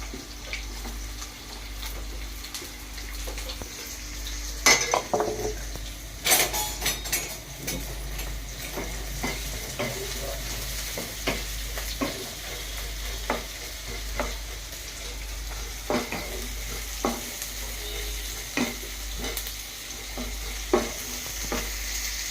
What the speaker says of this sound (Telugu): ఆయిల్ అయితే హీట్ ఎక్కింది ఉల్లిగడ్డ పచ్చిమిర్చి అయితే వేసేస్తున్నాను